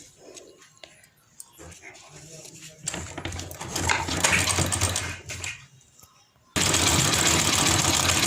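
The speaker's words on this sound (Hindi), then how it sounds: "अब इस पे मैं सिलाई चलाऊंगी थोड़ा पक्का करते हुए।" Sewing machine stitching a kurti along a marked design, a steady whirring run starting after quiet handling noises, pausing briefly, then resuming loud and continuous up close.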